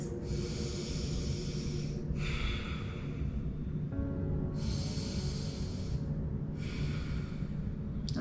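Slow, deep yoga breaths during a side-body stretch pose, heard up close: four long, airy exhales and inhales, each lasting about two seconds, with a soft background hum and no talking.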